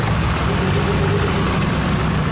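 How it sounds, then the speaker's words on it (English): Nissan R33 GTR with an upgraded twin turbo 2.9 liter RB26 engine and sequential shifter, strapped to a dyno and running at a steady loud idle, a dense low rumble with no talking. "R33s loaded on the dyno. This is an upgraded twin turbo setup"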